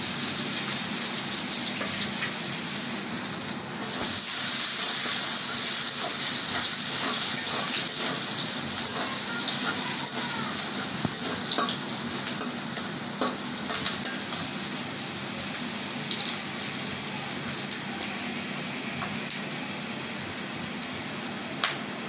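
Onions hiss and crackle in hot oil, loud and close, with the sizzle swelling sharply early on then settling into a steady frying hiss with faint stirring knocks throughout.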